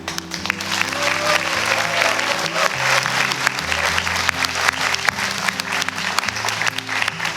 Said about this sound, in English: Please give a warm round of applause to Mr. Costello